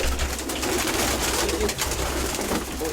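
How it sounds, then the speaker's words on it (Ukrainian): Pigeons coo steadily and fairly close over a continuous low background hum, with repeated soft throaty calls throughout; a black white-tailed dove is among the birds in a loft or coop. "Ось вона, чорна білохвоста Ось масна голубка, оця вона."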